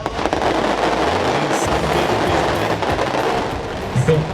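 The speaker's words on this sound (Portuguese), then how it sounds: "Os fogos de artifício." Fireworks burst during the Círio procession in a continuous, crackling barrage of pops and booms over a dense, noisy outdoor background.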